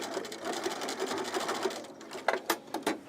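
A sewing machine stitches a top, running steadily and close up before breaking into a few short bursts as the seam is back-stitched.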